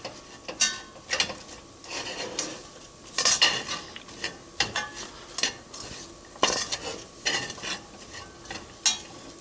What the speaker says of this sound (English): Just sweating these onions.